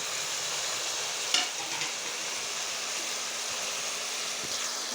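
White chicken karahi with black pepper, salt and turmeric added is stirred in the pan over a constant close sizzle, with a single scrape or knock of the utensil and no voices.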